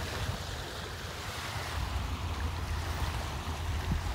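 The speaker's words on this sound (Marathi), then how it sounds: "हा मंडळी समुद्र बेसिकली आतमध्ये आलेला आहे, ओपन सी जो आहे, आणि हा हार्बर बनलेला आहे त्याला मनुगाव हार्बर असं म्हणतात" Sea waves washing within Manukau Harbour, New Zealand, a steady broad rush of surf with low rumbling and some wind buffeting the microphone, continuous and fairly close with no voices.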